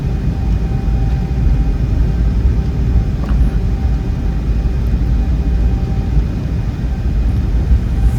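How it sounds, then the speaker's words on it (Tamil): An Emirates Boeing airliner takes off on the runway, heard from inside the cabin as a loud, steady, broadband engine roar and rumble that continues without a break. "இப்போ ஃப்ளைட்டு டேக் ஆஃப் வந்துச்சு ரன்வேல."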